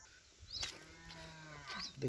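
A cow moos twice, a low drawn-out call near the start and another shorter one at the end, with quiet outdoor background between.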